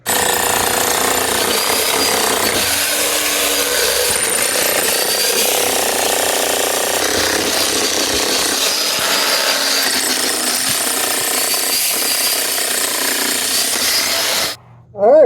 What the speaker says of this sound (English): All right, we're all suited up. Let's go jackhammer.